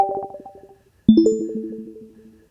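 Two bright electronic chime tones used as a podcast sound effect, a short high ping followed by a louder, fuller ding that rings on and slowly fades, with no voices.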